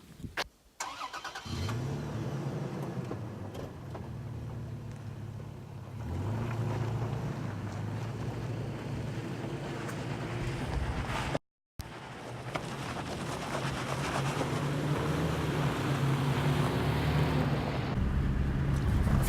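A 2018 Toyota Tacoma TRD Off Road pickup truck drives off road through cliffs near Anza Borrego, its steady mid-pitched engine hum droning continuously, with a brief dropout partway and rising slightly toward the end.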